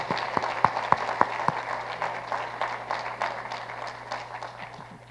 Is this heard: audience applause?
yes